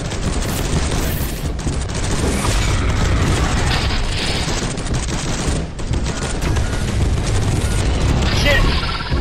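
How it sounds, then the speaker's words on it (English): A plasma cannon fires in Space Hulk Deathwing amid a dense, continuous barrage of loud gunfire, booms and mechanical clatter, with voices shouting over the combat. "Yo, plasma cannon!"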